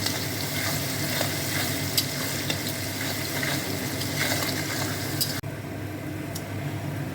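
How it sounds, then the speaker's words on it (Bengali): Chopped onions sizzle steadily while frying toward golden brown for a spicy mutton kosha, with occasional stirring scrapes; the hiss drops noticeably near the end, then continues quieter. "এই পেঁয়াজটা ভীষণ ভালো করে ভাজতে হবে, একদম গোল্ডেন ব্রাউন হওয়া পর্যন্ত।"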